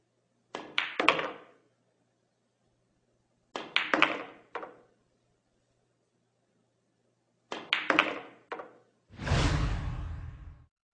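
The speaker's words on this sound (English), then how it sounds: "The shot is performed by striking the cue ball just below center." On a pool table, three separate short clusters of crisp cue-on-ball clacks and ball collisions ring out with silent gaps between them, followed by a longer rolling rumble of a ball traveling and dropping.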